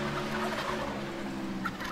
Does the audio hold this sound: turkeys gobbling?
yes